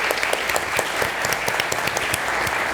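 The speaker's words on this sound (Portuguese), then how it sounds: "Por favor, uma salva de palmas" Steady applause from a conference audience, many hands clapping continuously at an even level for a few seconds.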